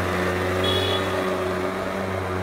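A Yamaha Aerox scooter engine runs roughly, with a steady low droning hum and a faint high whine briefly rising over it.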